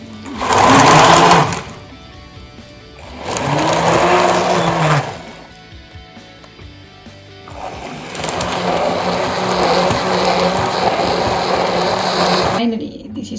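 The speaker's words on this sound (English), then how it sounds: "So I'm going to use a hand blender to blend it." Hand blender whirring through an avocado granola smoothie in three loud bursts, a short one, a second of a few seconds, then a long steady run, with quiet pauses between.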